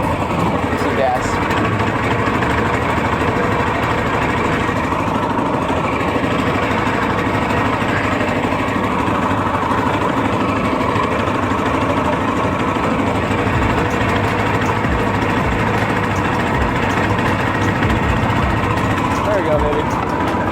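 A long tail duck boat engine runs steadily on its hand throttle, a loud continuous rumbling drone that persists throughout while people talk over it.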